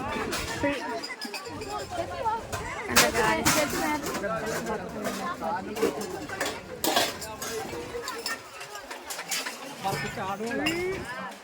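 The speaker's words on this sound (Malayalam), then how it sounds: "ചേച്ചിമാര് പാത്രം കഴുകിട്ട്" Dishes and cutlery clink and clatter repeatedly as pots and dishes are washed at a crowded temple meal, under a busy hubbub of voices chattering nearby.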